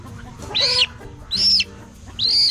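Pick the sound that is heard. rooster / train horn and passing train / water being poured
rooster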